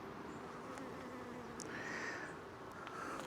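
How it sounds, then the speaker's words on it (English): Guard honey bees buzz and circle close around a beekeeper in a yard of hives, a soft droning hum with individual bees zipping past the ear. "those guard bees are on me"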